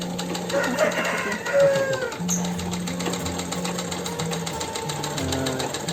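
A sewing machine runs steadily with a fast, even mechanical stitching rhythm, moderately close, with faint background noises around it.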